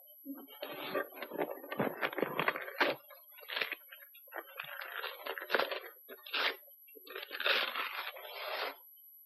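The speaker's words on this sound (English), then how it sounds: "in order to get a proper color test, you must first unwrap the sample" A wrapped sample being unwrapped produces close, crinkly crushing and tearing bursts that come in irregular clusters separated by brief pauses.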